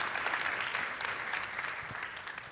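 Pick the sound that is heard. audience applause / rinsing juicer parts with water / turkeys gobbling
audience applause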